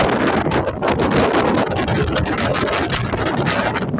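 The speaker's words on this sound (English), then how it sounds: "Woo, that's blowing hard." Strong wind during a dust storm roars and buffets a nearby microphone, a loud, continuous rush with gusty surges throughout and no speech.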